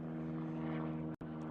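A propeller aircraft passes over a fishing lake with a steady droning engine hum, continuous apart from a brief dropout near the end.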